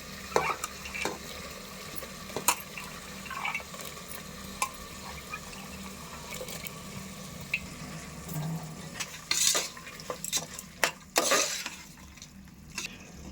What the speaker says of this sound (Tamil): இப்போ வதக்கிக்கலாம்.